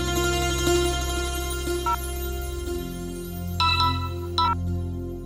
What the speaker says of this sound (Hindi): मुझे कॉल आ रहा है।